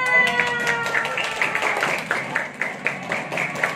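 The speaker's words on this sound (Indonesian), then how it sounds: "Beri tepuk tangan." Scouts at an elementary-school camp clap their hands together in a steady run of sharp, evenly spaced claps, fairly close, with a faint hum of voices behind.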